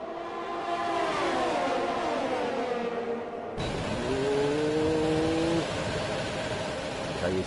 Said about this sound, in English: He's having a really high rev at the moment